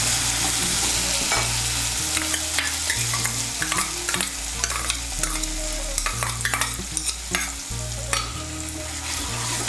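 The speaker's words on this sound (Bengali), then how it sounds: "মিশিয়ে নিয়ে মশলাটাকে ভালো করে কষিয়ে নেব" A spice paste is stirred and sautéed in a frying pan for a pointed gourd dish, with a steady sizzle under repeated scraping strokes of a spoon against the pan and a low background hum.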